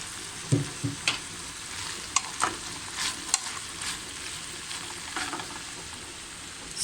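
Mushrooms sauté in a pan, a full package cooked for six, giving a steady close sizzle broken by occasional scraping clatters as they are stirred.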